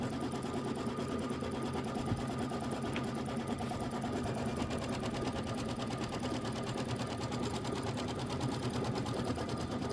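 Embroidery machine sewing a placement stitch for a quilted block, a continuous, fast, even mechanical stitching hum that runs steadily throughout at moderate level with no voices.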